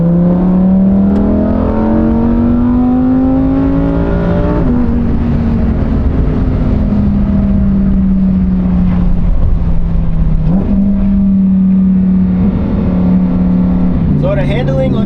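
A Lamborghini Huracan, rear-wheel drive, holds a steady engine drone while driving through a gentle curve, its pitch easing off and shifting midway, heard from inside the cabin with someone talking over it.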